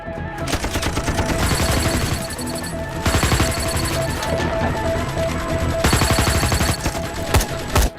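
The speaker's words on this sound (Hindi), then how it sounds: "हम तो फायरिंग कर रहे हैं सर।" Heavy gunfire in a Hindi action film shootout, sustained rapid bursts of automatic weapons with sharp cracks and crashing impacts, loud and continuous throughout.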